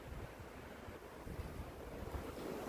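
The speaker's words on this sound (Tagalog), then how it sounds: "Very windy." Strong wind in a snow storm blows hard against the microphone, a dense roaring rumble with gusty buffeting throughout, no voices.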